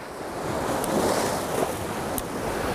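White water waves break and churn against coastal rocks in Cornwall as a steady, loud rush of surf with wind buffeting the microphone, all close up and without voices.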